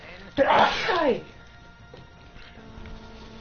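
A single loud, close sneeze bursts out sharply and fades within a second, followed by quiet room noise during a gaming session.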